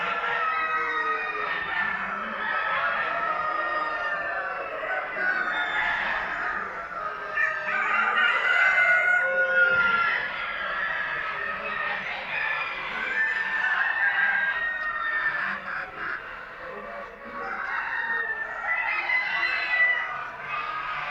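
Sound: chickens and rooster crowing

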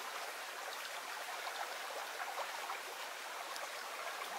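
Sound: mountain stream water flowing off Hay Bluff

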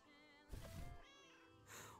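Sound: cat meowing in video game Lake

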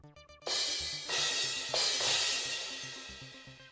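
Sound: drum kit cymbals

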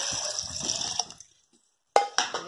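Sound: pouring one liter of water into a blender

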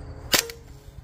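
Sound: Invader Auto air rifle firing an H&N slug

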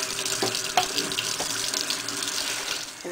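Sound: tap water running to rinse

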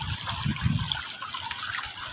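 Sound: clear water flowing in a small river

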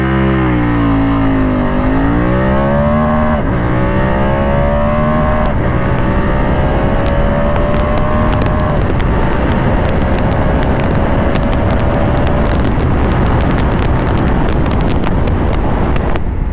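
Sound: BMW F 850 GS Adventure motorcycle accelerating in dynamic mode

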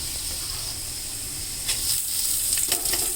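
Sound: cooking sizzling in butter in a pan

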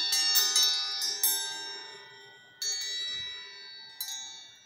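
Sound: homemade wind chime tinkling

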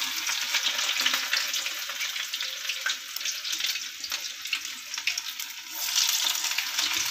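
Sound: medu vada (urad dal fritters) frying in oil

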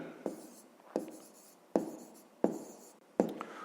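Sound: writing a maths solution by hand

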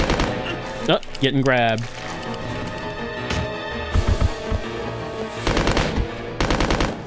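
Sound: Uzi gunfire in video game Resident Evil Code: Veronica

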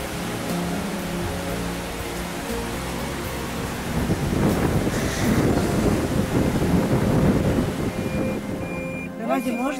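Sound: fast-flowing full river in mountain Adjara

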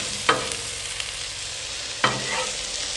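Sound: flipping and mixing hashbrown casserole on a Blackstone griddle

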